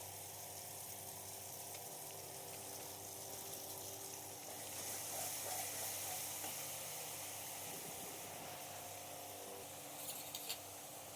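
Spice paste with poppy seed and melon seed paste and whisked yogurt cooks in oil for a puti fish curry, giving a soft, steady sizzle with faint stirring under a low background hum.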